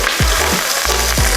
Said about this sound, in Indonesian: Sebentar aja gorengnya, jangan kelamaan.